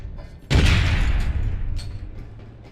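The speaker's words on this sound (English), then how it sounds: "once again, there's stun grenades" A stun grenade bursts in the online shooter game APB: Reloaded, a single sudden loud boom that rings out and decays over about two seconds, heard alone.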